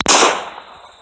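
A single rifle shot fired at target practice, one sharp, loud, close crack followed by a decaying echo, with no talking.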